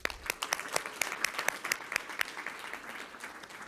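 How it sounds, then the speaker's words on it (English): At a school board meeting, the audience applauds a high school's state champion soccer team: a moderate crowd clapping continuously, with sharp individual claps standing out near the microphone. "Let's give them one more round of applause."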